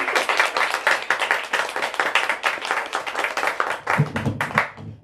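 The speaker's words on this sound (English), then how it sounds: "Let's give another big hand of applause to these two." Close, lively audience applause with crisp individual hand claps ends a small live conversation event. It holds steady for about five seconds, then thins out and stops.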